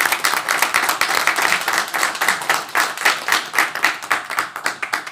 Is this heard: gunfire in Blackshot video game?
no